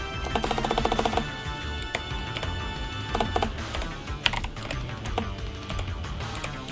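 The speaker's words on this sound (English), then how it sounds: "Why is typing with one hand so hard?" Someone types on a computer keyboard with one hand, a rapid burst of clicks followed by scattered, slower keystrokes against a faint background, close and without speech.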